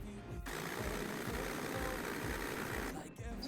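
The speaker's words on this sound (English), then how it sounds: "One more time and we are starting the engine." A Mitsubishi Pajero engine cranks over and settles into a steady, even idle, a continuous mechanical drone held at moderate level for a few seconds before cutting away.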